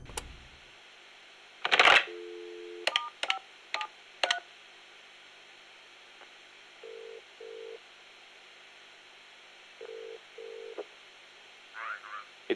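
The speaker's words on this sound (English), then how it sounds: "The phone call." Telephone dialing in the Metal Gear Solid: Peace Walker video game: quick clicks and rustles, then paired DTMF tones beeping in short bursts, separated by quiet pauses, ending with a faint electronic chirp.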